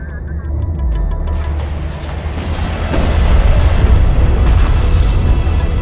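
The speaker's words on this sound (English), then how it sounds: "Missile barrage detected." A missile barrage explodes in the real-time strategy game Homeworld: Deserts of Kharak, a loud, continuous stream of deep booms and rumbling blasts that grows heavier and more intense midway through.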